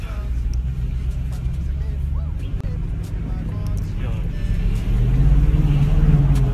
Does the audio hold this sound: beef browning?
no